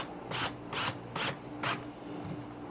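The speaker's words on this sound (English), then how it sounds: "That's how you want to run a screw with a cordless drill." A cordless drill bumps a screw into wood while a raised garden bed is assembled, four short evenly spaced bursts of grinding whir close up, then a faint last click.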